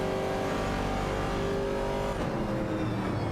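A Chevrolet Camaro 70 and a Ford Falcon race in a video game, their engines droning in a steady loud roar with overlapping revving tones, one pitch shifting as a car shifts gear.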